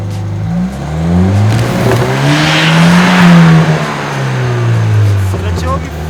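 A car engine revs hard and steadily as the car works its way out over snow and a tree root, the pitch rising and falling with wheelspin, loud and close, while people talk over it.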